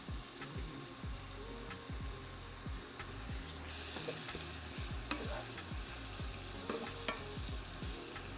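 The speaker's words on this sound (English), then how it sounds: "Gonna add about a cup of black beans." Black beans stirred into a sizzling frying pan while making Southwest chicken egg roll filling; a steady close fry hiss runs throughout, broken by repeated scraping stirs and soft clatter, with no talking.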